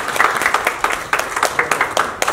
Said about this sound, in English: A big round of applause for Mr. and Mia.